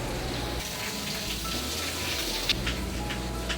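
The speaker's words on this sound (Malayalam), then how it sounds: "നല്ല മഴ ഇന്ന് ഓണത്തിനിവിടെ." Heavy rain on Onam in Port of Spain, Trinidad and Tobago, a dense steady hiss of falling water with no talk, loud and constant throughout.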